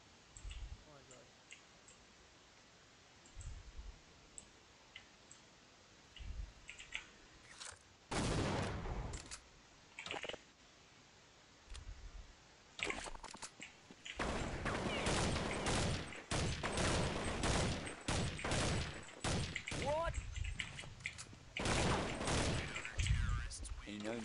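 Rapid bursts of video game gunfire erupt repeatedly over about the last two-thirds of the stretch, loud volleys and single cracks, with players talking over and between the shots.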